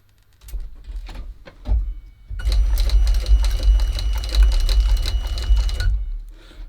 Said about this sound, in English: So I'll sew the tongues in next.